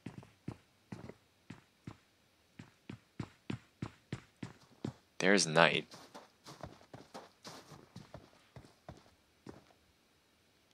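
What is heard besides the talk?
footsteps in a video game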